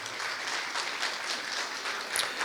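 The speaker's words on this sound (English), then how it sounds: "Can we get a huge round of applause," A steady round of audience applause fills a gala hall at an International Women's Day event, dense even clapping from a crowd heard on its own with no voices.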